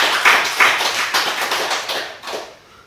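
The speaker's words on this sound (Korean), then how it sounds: "브루스를 위해서 박수 한번 치세요" An audience at a lecture gives a short round of clapping, several quick close claps in an irregular burst that tapers off after about two seconds.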